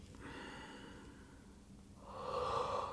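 A slow, audible breath out during a guided relaxation exercise, with airy breathing that swells into a stronger, louder exhale toward the end, close and alone.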